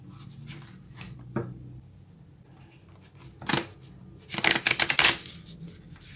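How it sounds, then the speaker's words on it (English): Tarot cards being shuffled by hand, close and fairly quiet: a few soft riffles early on, then a louder burst of rapid flicking near the end, with no talk. "let's go ahead and get some cards."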